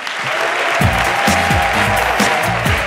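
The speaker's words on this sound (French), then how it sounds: "Mesdames et messieurs, faites beaucoup d'applaudissements" Loud, dense applause from a large comedy show audience fills the clip, with an announcer's voice calling out over the clapping.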